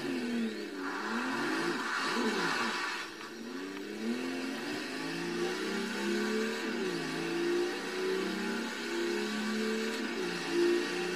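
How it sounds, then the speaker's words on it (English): An old classic Ford Bronco engine in Forza Horizon 3 revs up and down repeatedly, rising and falling in pitch, a steady mid-toned motor sound with no talking. "And the engine sounds quite nice, to be fair,"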